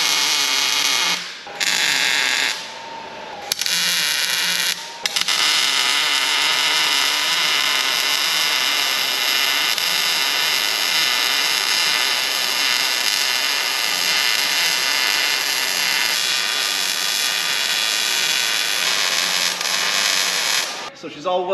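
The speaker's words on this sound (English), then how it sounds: "I guess I could probably just fully weld this thing in place here." Welding a steel plate in place on a mini gooseneck trailer built for a mini truck, a steady loud crackling hiss that runs nearly continuously for about twenty seconds after a few short starts and stops.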